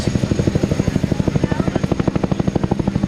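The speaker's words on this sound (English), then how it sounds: "The U.S. Air Force uses this helicopter for contingency support and VIP, distinguished visitor transport, in the Washington, D.C. area" A U.S. Air Force military helicopter departs with a loud, close, rapid rotor thump over a low engine drone, the blade pulses steady throughout.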